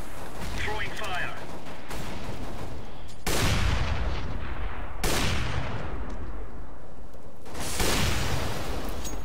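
Grenade thrown in a tactical shooter video game, heard as a run of loud, dense gunfire-like blasts with several sharp onsets that fill the clip.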